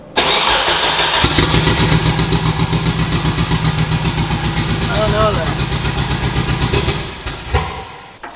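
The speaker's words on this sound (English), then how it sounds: "it runs-ish, but it doesn't sound like it's running on more than one cylinder" A car engine runs roughly on one cylinder, giving a loud, close, lumpy idle with a steady chugging pulse that sputters out near the end.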